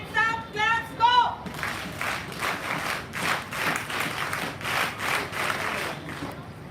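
At a Guides testing camp valedictory function in Bhubaneswar, a brief spoken call gives way to an audience clapping in a steady, synchronized rhythm, about a dozen evenly spaced group claps ringing out in a row.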